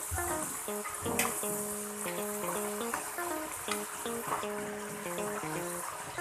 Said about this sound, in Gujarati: શકરિયાનો થોડો કલર બદલાય અને તે અંદરથી થોડા સોફ્ટ થાય ત્યાં સુધી તળીને તૈયાર કરીશું